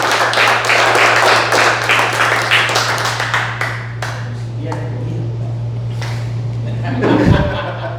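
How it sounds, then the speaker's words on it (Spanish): A church congregation claps enthusiastically for a few seconds, the applause fading into a hum-filled room with scattered claps, chatter and a voice near the end. "¿Por qué no le da otro fuerte aplauso a Dios, pero con ganas"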